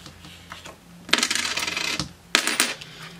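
Coins tipped out of a paper cash envelope, two bursts of bright metallic jingling and clinking as they spill and settle, close and loud with a quiet gap between.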